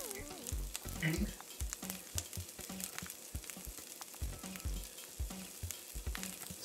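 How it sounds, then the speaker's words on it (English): Strawberry bubble waffle batter sizzles and crackles continuously in a hot bubble waffle maker, with scattered pops and faint voices in the background. "Sizzle in there."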